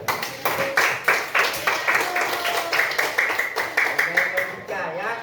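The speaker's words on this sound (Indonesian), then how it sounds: "Tepuk tangan untuk kita." Students in a classroom clap together in a quick, even rhythm, each sharp burst close and loud, as voices chatter beneath the beat before it fades near the end.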